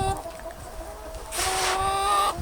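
Chickens cluck in a snowy farmyard, giving a mix of soft, close clucks and calls over a busy background, with one louder, brighter stretch of vocalizing in the second half.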